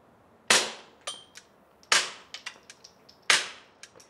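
Three sharp rimfire gunshots through a lightweight Mercy Firearms Pluto suppressor ring out about 1.4 seconds apart, each followed by a quick trail of softer echo cracks, with no talking.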